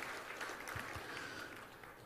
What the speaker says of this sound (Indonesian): Tepuk tangan untuk para seniman kita